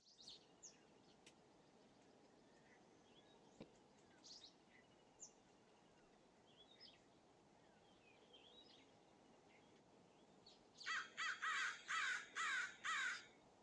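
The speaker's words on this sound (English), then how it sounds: "Like, shut up, crows." Several loud crow caws in a quick series near the end, following a long stretch of quiet outdoor ambience with faint distant chirps, heard during a modded Minecraft session.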